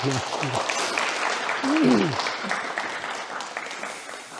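A church congregation claps steadily for several seconds during a Sunday service, broad applause with voices speaking over it.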